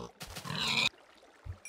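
A Minecraft pig gives a short, close grunting oink lasting under a second, followed by a faint low thump.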